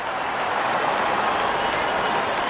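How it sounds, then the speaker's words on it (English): Stadium crowd in the Real Cricket game roaring and applauding after a wicket falls, a steady dense wash of cheering and clapping that stays loud and continuous throughout, with no clear breaks. "there comes the celebration and the crowd loves it"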